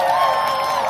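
Festival audience at an outdoor lakeside-path festival closing ceremony cheering and shouting in a steady, dense roar, with overlapping voices and whoops sustained throughout.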